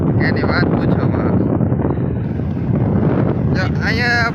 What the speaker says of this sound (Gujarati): શું જોરદાર પવન આવી રહ્યો છે.